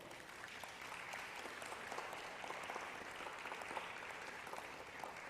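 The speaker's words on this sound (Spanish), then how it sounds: "Démosle palmas al Señor." A church congregation applauds the Lord during a sermon, a steady wash of many hands clapping, fairly distant and soft, continuous throughout without talk.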